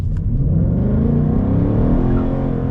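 A 2024 Ford Mustang GT accelerating hard, its engine droning and rising steadily in pitch, loud and close throughout.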